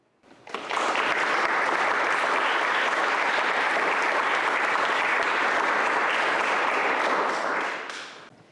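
Conference attendees at the EMS 2025 meeting break into applause, a sudden start into dense, even clapping from a sizable crowd that holds steady for several seconds before stopping abruptly.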